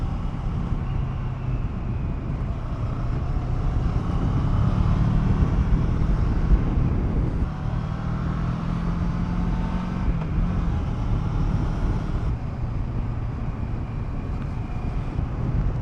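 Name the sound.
Kawasaki Versys 650 motorcycle riding in third gear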